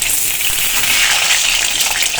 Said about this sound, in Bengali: দেখো হাঁসের ডিম ছাড়িয়ে দেখো ভাজা করতে দিয়ে দিয়েছি আমি